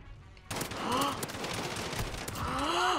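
Rapid X16 pistol fire in Call of Duty: Modern Warfare, bursts of shots with game sounds and a player's voice over them after a quiet start.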